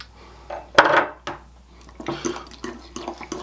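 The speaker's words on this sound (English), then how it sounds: "And we are going to stir all of this together." Lime zest, lime juice and salt stirred into a creamy sauce in a bowl, a sharp utensil knock followed by irregular scraping and light clinks against the dish.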